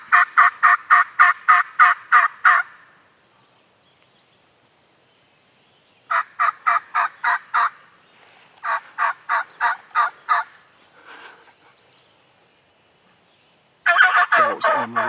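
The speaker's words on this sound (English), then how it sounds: "That's some of the best gobbling I've heard all year." Wild turkeys gobble on a ridge in Tennessee, loud rapid rattling bursts repeated in several volleys with brief silent gaps between them, close and clear with no talking.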